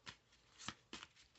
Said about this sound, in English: I'm going to go on and just shuffle up my more petite deck here